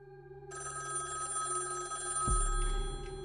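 A telephone ringing loudly in a house at night, a steady electronic ring that starts abruptly and sustains, then a low thump near the end.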